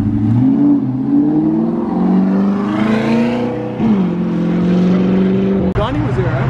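A one-off Ferrari SP30 engine revs loudly and close, its pitch climbing and falling through several swells, with a brief sharp cut near the end.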